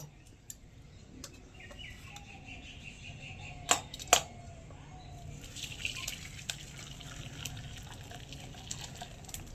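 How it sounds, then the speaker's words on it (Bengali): Chhana whey strains through a white cotton cloth as a quiet trickle with scattered drips, joined by a few sharp clinks and faint birdlike chirps in the background. "সাদা সুতির কাপড় নিয়েছি, এই কাপড়ে ছানাটা ছেঁকে নেব।"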